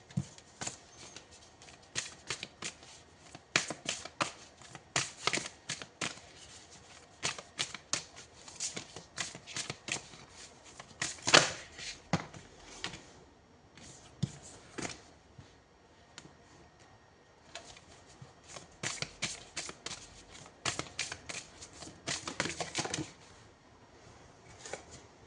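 A deck of tarot-style cards is shuffled by hand in repeated crisp bursts of rapid riffling and flicking, close and dry, with brief pauses between rounds.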